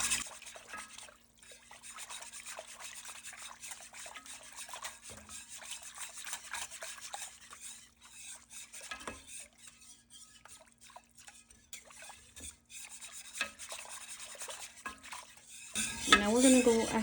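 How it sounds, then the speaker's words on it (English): A whisk scrapes steadily around a pan of sauce during home meal prep. The quick, rhythmic metallic strokes stay fairly soft and close, and a sharper clatter of cookware comes at the end. "I'm gonna go ahead and give it a whisk."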